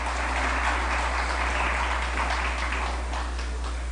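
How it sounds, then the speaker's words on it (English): An audience in the Achievers Banquet Hall gives a dense round of applause at a chamber of commerce event, steady and fairly loud over a low hum. "Please give them a round of applause."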